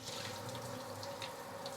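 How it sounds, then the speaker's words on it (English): Steady running water from a tap, with faint splashing as fish is rinsed beneath the flow, close by and continuous. "I'm going to quickly pour away and also rinse it under water a little bit."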